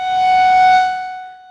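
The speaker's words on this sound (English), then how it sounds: "Denver's Office of Emergency Management tests its outdoor siren system" An outdoor civil defense warning siren sounds during a Denver test, a loud, steady tone that swells and then slowly fades.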